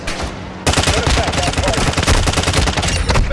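Rapid gunfire in a military video game, dense automatic bursts crackling loud and close after a brief quieter lead-in, continuing without pause to the end.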